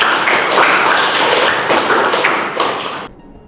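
A short burst of applause from a classroom audience at a teaching demonstration, with dense, bright clapping for about three seconds that ends abruptly. No one speaks.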